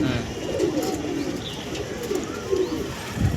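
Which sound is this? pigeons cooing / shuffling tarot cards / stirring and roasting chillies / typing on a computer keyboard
pigeons cooing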